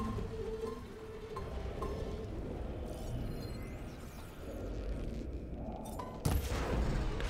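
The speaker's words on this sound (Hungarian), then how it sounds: "sikerült fel is robbantanom" An explosion in the PS5 game Horizon Forbidden West, heard amid continuous dense rumbling combat noise, with a sharper loud burst near the end.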